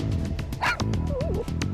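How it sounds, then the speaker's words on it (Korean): A dog named Mini barking in alarm, a rapid series of close, sharp yips and barks with a brief whine in the middle, loud and insistent across the moment. "위급함을 인식한 미니가 짖기 시작하자 마치 긴급 비상 연락망을 가동하듯 동네 개들이 따라서 짖기 시작한 것이다"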